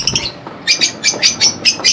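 Pet birds in a breeding aviary give a rapid run of short, bright chirps in a regular rhythm, fairly close and loud, with no talking over them.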